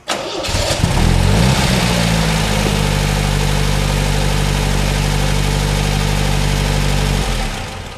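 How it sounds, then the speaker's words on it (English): A 1977-1980 MGB with an automatic choke cranks briefly, fires up loudly and settles into a steady, close-up idle for several seconds before the engine note fades out at the end. "Then we can start the car up."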